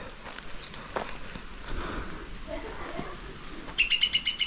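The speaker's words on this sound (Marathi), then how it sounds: "जंगली पक्षीचा आवाज" Repeated bright wild bird chirps near the end over a busy outdoor background in woodland near cashew trees, with rustling and scattered movement sounds.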